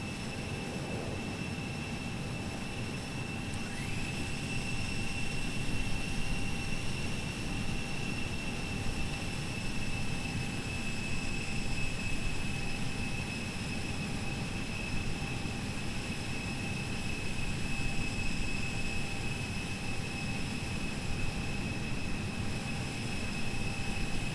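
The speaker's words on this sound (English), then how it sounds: "It's gonna spool up and then kind of spool down." Air conditioning pack on an Airbus A320 in the Flight Factor simulator, a steady rushing airflow roar with faint high whines, one of which shifts pitch early on before settling.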